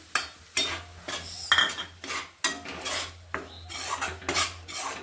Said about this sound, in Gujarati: લોટ છે એ આપણે ઘીમાં શેકી લેશું।